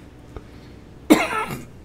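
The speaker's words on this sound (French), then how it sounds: "je vais tousser un coup pour de bon" A single sharp, loud cough from a man, standing out alone after a faint low thump, recorded close during a French-language preview of the 2024 L'Amerzone game remake.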